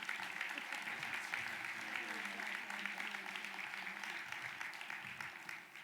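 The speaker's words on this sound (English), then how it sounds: "I want you to give him a round of applause as he comes to give our keynote message, Dr. Elford Anthony Pinkard." At a UNCF Mayor's Luncheon in Cleveland, an audience claps steadily for several seconds, a dense, even wash of applause that fades slightly toward the end, with faint voices beneath.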